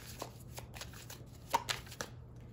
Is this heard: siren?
no